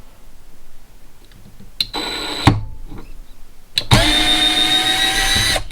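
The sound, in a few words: cordless drill backing out a screw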